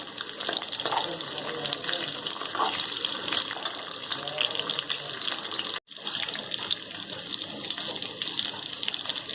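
Green chilies sprinkled with a little salt frying in a pan, a constant close sizzle with occasional stirring scrapes, briefly cut off partway through before resuming.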